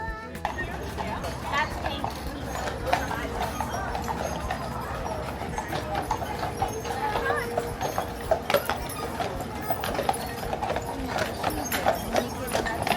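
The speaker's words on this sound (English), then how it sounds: "So what you hear is hooves on pavement and people talking." Draft horses clip-clop on paved streets of car-free Mackinac Island, a steady stream of overlapping hoofbeats at moderate distance with an occasional whinny, under continuous crowd chatter.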